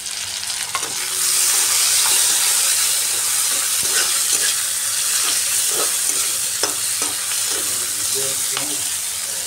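Chopped tomato hitting a pan of crisped onion and garlic for a Bengali red amaranth dish, with a loud burst of steady sizzling that holds evenly and is broken by occasional stirring scrapes and knocks.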